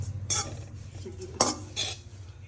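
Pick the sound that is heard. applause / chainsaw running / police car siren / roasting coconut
roasting coconut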